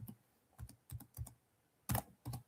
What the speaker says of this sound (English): Right now, I'm just typing in come join the live stream.